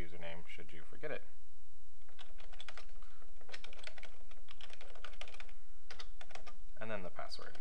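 Fingers tap out an email address on a computer keyboard, quick bursts of close key clicks with short pauses, a voice speaking briefly at the start and end.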